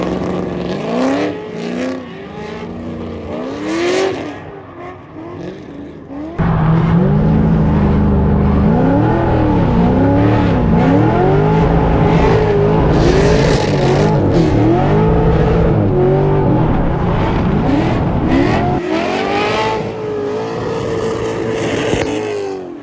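A Corvette C6 race car lapping a track, its V8 roaring close and loud, rising and falling in pitch through repeated shifts and revs, with no one speaking.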